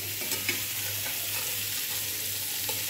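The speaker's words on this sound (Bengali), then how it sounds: "সবগুলি মাছ আমি একটু ভেজে নেব।" About two kilograms of prawns frying in a little mustard oil, a dense continuous sizzle and hiss with light stirring scrapes, close and steady, no talking.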